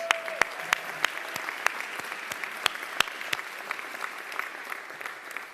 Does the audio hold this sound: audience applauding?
yes